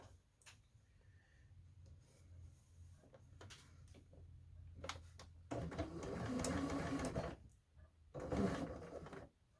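A home sewing machine stitching fabric in short runs at first, then a long loud burst of fast stitching and a second burst near the end.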